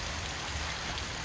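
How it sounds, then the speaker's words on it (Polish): Heavy downpour over the village of Nadrybie, a steady, dense hiss of rain that stays even and unbroken from start to finish. "I niech teraz sobie pada całą noc"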